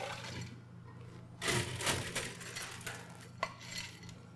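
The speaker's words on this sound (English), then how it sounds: "from there, we are going to add ice. All the way to the top" Ice cubes go into a cocktail glass, filled all the way to the top while making a Brown Derby, a few clattering bursts of cubes against glass up close, with a sharp knock near the end.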